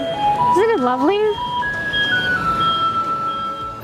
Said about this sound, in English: That's the sound of garbage pickup.